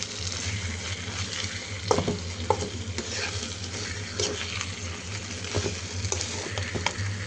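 Small shing fish sautéing with onion, ground spices, green chillies and coriander leaves, a steady sizzle close up with repeated stirring scrapes and clacks of a spoon against the pan.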